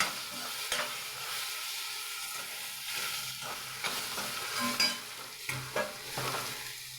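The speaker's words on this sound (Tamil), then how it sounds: "அந்த வெந்தயத்தை அதில் போட்டு அந்த முள்ளங்கியை நெருக்கி வச்சுக்கிட்டு அதில் போட்டு நல்லா வதக்கணும்" Radish pieces with fenugreek seeds sautéing in a pan, a soft sizzle under intermittent stirring scrapes and clinks, fairly quiet and close with no talk.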